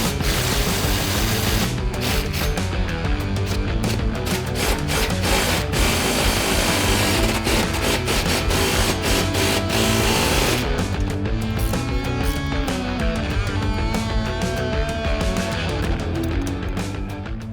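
A power tool or ratchet runs continuously and loudly, tightening bolts that pull a remote reservoir bracket against the frame of a 2015-2020 Ford F150 4WD, with a steady mechanical whir and rattle.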